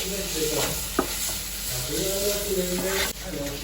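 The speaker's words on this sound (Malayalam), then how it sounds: "നല്ല പച്ചമണം മാറുന്നവരെ ഇത് മിക്സ് ചെയ്തോണ്ടിരിക്കാം." Ginger and garlic sauté in a pan while being stirred: a constant close sizzle broken by a few soft scraping strokes, with no voices.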